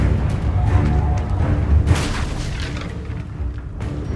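Booming spell blasts from a Reducto casting in Hogwarts Legacy, a series of heavy low explosions with crackling bursts, loud and close, with no talking.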